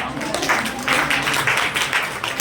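An audience applauds a teacher at a school staff appreciation awards ceremony. The clapping is moderate and comes in short, uneven swells, fairly close and with no voices over it.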